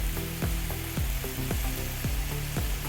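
Beans and potato curry with tomatoes being stirred in a pan: a continuous loud sizzle broken by repeated metallic spoon scrapes and clanks against the pan at a steady stirring rhythm.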